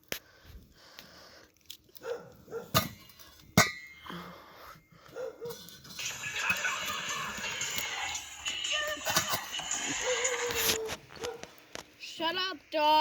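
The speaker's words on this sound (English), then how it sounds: "How are we gonna sleep if they don't stop barking?" Dogs barking at night near an outdoor campfire, heard in scattered bursts at a distance alongside clinks, shuffling and a steadier noise in the middle. People talk intermittently over the barking.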